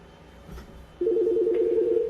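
A Fanvil X6 VoIP desk phone rings for an incoming call, a steady electronic tone that starts about a second in and continues loud and close after a quiet start with faint background noise.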